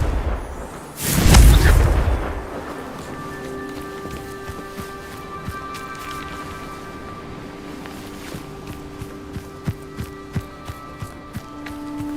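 A Confringo explosive spell cast in Hogwarts Legacy bursts as one loud, close blast about a second in, then trails off into a low rumble with scattered light crackles and small popping impacts.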